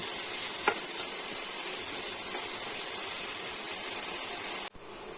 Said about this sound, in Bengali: যে গাজরটা আমি একদম গ্রেট করে রেখেছিলাম পুড়িয়ে রেখেছিলাম যে সেটা আমি দিয়ে দিচ্ছি এটার মধ্যে দিয়ে আমি কিছুক্ষণ ভেজে নেব